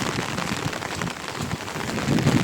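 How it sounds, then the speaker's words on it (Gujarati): Heavy monsoon rain driven by strong wind pours down on a street in Bhavnagar, a loud, continuous hiss with no breaks, swelling slightly toward the end. "એટલો ભયાનક વરસાદ છે"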